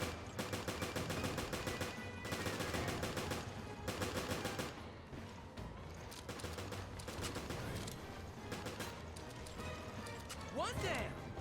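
Rapid bursts of gunfire in the Resident Evil Revelations video game, dense repeated shots in several volleys with brief pauses between, loud and close, with voices talking over parts of it.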